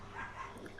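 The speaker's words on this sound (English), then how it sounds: "I hear my dogs going crazy in there." Faint, muffled dogs bark excitedly from another room, low and distant beneath a quiet background hum.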